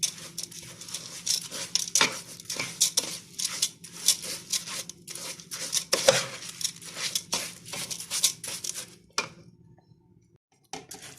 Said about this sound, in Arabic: بعدين هنقلب بقى كله مع بعضه كده